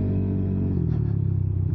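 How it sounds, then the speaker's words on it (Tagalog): Low continuous rumble of street traffic in Bulacan heard from a moving motorcycle, engine drone steady throughout with no voices. "Traffic ah."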